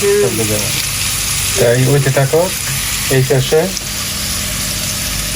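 Onions frying in a pan for a chicken pulao, a continuous close sizzle with bursts of stirring, while a person talks over it in short phrases.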